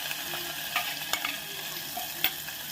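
Green chili, garlic and ginger hit hot ghee tempering for mango kadhi, giving a steady close sizzle broken by a few sharp crackles and pops.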